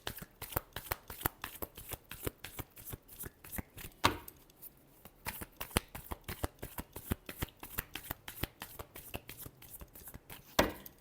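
Tarot cards are riffled and shuffled by hand in quick rhythmic bursts, close and crisp, repeating steadily with a few louder slaps along the way.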